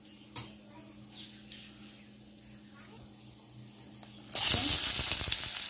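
Bay leaf, cinnamon, cloves and cardamom hit hot oil, and after a quiet stretch with a few soft clicks a sudden loud sizzle bursts out and keeps going.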